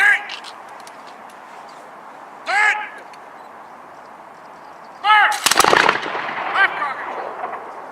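Flintlock muskets are fired by reenactors at a Battle of York historical reenactment demonstration. Three loud, booming volleys come at intervals, the last trailing into a ragged crackle of scattered shots, with a narrator speaking between them.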